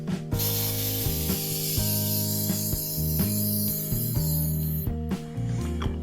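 A long continuous hiss of baking spray being sprayed into a cake pan, loud and steady for several seconds, set against background music.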